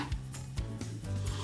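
Wire wool scrubbing along the runners of a teak bookcase, a steady abrasive rasping in short back-and-forth strokes, close and moderately loud.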